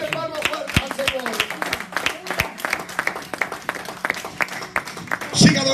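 Church congregation clapping loudly and rhythmically in steady hard beats during worship, with a preacher shouting encouragement over the claps throughout.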